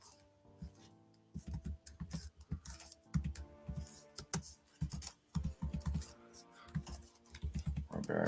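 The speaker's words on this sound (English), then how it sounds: "I'm typing with one hand." Someone types one-handed on a computer keyboard in quick, irregular bursts of clicking keys, close up, with short pauses between the runs.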